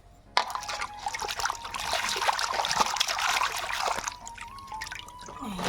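Water trickles and splashes steadily while fresh fish are rinsed clean of mud, a continuous close pour that stops briefly before resuming softer.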